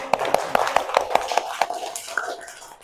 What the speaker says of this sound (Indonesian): Kalau senang, boleh tepuk tangan.